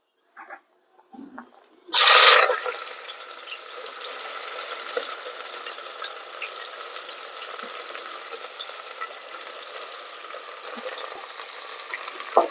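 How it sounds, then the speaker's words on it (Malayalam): Shallots, onion, chillies, tomato and ginger-garlic paste hit a hot pan for chicken curry with a sharp burst of sizzling, then settle into a steady, crackling fry with occasional stirring scrapes. "അതെല്ലാം കൂടെ ഇട്ടിട്ട് നമുക്കൊന്ന് വഴറ്റി കൊടുക്കാം കേട്ടോ."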